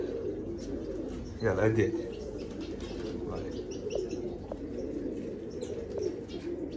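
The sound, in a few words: pigeons cooing and flapping wings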